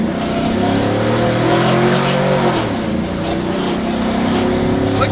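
A 2004 Chevrolet Silverado with a 4.8 V8, shorty headers and open exhaust cutouts gives a loud, rough engine note that climbs with throttle and then drops away, close by and continuous, with no talk over it.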